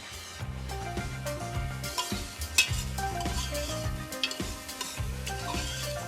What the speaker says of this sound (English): Those veggies are now cooking down.